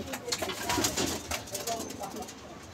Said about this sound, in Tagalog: Third bird, yung Riesel